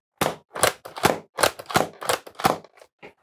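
A NERF DragonPower Emberstrike spring blaster fires and cycles, giving a quick run of about eight sharp, close mechanical snaps and clacks in uneven rhythm, each short and distinct, with no talking.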